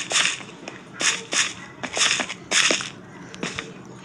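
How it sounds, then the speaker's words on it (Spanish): Crunchy block-placing sounds repeat in quick bursts as glass blocks are set down in the survival crafting game Craftsman, roughly a dozen sharp crackles in an uneven rhythm, alone with no talk. "voy a seguir colocando los cristales"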